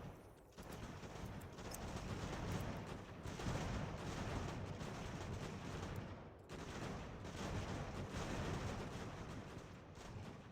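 Musket volleys and artillery fire in the video game Ultimate General: American Revolution during a 1776 assault on a British fort, a dense continuous crackle of gunfire with two brief lulls, loud and sustained.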